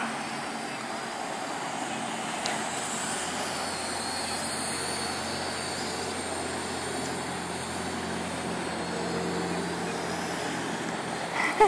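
An AR Drone 2.0 quadcopter hums and whirs steadily in flight near a water tower, a constant droning buzz with no pauses or talking.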